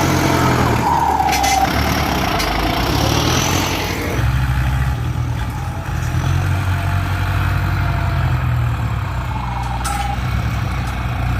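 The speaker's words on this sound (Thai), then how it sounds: "เริ่มเร่งเครื่องแล้ว" Ford 6610 tractor engine running loud and steady in a field, a continuous heavy diesel drone with a rising rev early on and another near the end, no voices.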